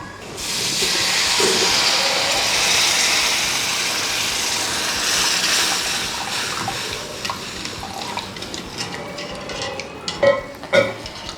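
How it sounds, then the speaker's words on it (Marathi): Water poured into a pan of fried turmeric while making pithla, the Maharashtrian gram-flour dish: a loud, close rushing hiss for several seconds, fading into lighter splashes and a few sharp clinks of the pan near the end. "आता ह्याच्यात आपण टाकणार आहे पाणी"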